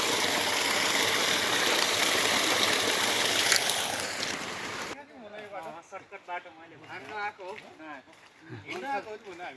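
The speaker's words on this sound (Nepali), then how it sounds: "कल कल कल कल खोला गोदावरीको यो पानी चाहिँ डाइरेक्ट खान मिल्छ" The Godavari stream, on a hike up to Marble Danda, rushes and babbles loudly and steadily up close for about five seconds, then fades to a softer background under a person talking.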